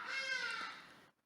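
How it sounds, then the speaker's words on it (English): A large, dramatically loud bird gives a single drawn-out, nasal, meow-like call in the background, faint and fading after about a second. "And you can hear that bird in the background"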